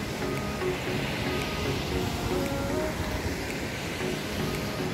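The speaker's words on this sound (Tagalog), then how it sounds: "Medyo may kalakasan ng alon kasi nga open sea na siya." Strong open-sea surf rolls onto a wide beach at San Felipe, Zambales, a steady, loud wash of breaking waves with wind noise throughout and no talking.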